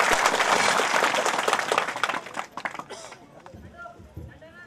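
Applause from an audience gathered for the opening of double-bedroom houses in Dhomaledgi village: a dense, loud wash of clapping for about three seconds that thins and fades, with voices talking over and after it.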